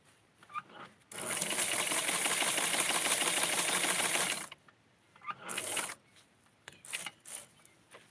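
A sewing machine stitches fabric for a sleeve of a custom doll-sized garment, one loud, steady mechanical run of about three seconds followed by a few short, quieter bursts.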